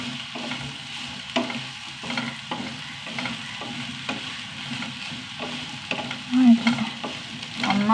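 Close sizzle of eggplant sautéing in a pan, broken by rhythmic stirring and scraping strokes that come every second or so, with no voices.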